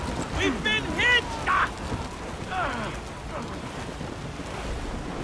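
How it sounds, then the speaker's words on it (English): Rain and rough surf wash over a sailing ship during a squall in Assassin's Creed Rogue, a steady broad roar with a voice calling out briefly over the storm early on. "It's quite a rough squall, Captain."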